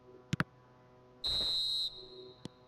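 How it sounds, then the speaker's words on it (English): A referee's final whistle sounds in an eFootball video game, one sustained shrill blast of about half a second, preceded by two sharp clicks and followed by another click. "And there goes the final whistle."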